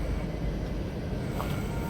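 Rumble of a train at Kumta railway station, a steady low broadband roar with a faint whine rising briefly near the end, no voices present.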